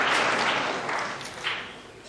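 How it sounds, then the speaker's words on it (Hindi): Audience applause at a devotional motivational talk, a dense wash of clapping from the crowd that fades gradually over two seconds with a brief swell near the end. "दे ताली"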